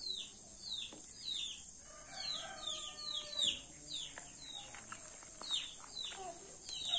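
Chickens clucking around a small backyard chicken coop, with sharp bird chirps repeating throughout and a steady high insect-like whine behind, all at moderate distance with no talking.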